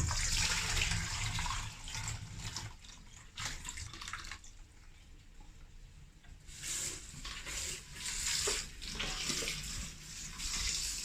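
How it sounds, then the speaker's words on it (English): Running water splashes over soaked vegetables being washed by hand, with gushing bursts that fade and return and soft rubbing and rinsing noises in between. "Now I'm washing the vegetables and making sure that they're clean."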